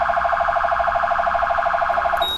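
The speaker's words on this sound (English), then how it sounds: "This one is called the phaser." A police car's phaser siren wails in a steady, loud, rapidly pulsing electronic tone that runs on alone for about two seconds before cutting off.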